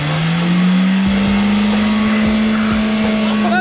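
A lifted truck stuck in mud revs its engine hard in a loud, steady, slowly climbing drone, with splattering thumps from the spinning tires and faint voices underneath.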